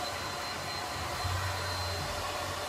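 A hair dryer blows on hair styled with wax, giving a continuous, even whooshing hum up close with no talking.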